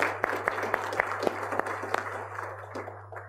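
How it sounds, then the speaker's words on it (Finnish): A panel-discussion audience gives welcoming applause to the guests, scattered claps over a low steady hum. The clapping is fairly light and thins out toward the end. "Nyt voidaan antaa sitten yhteiset tervetuloa aplodit näille kaikille vieraille."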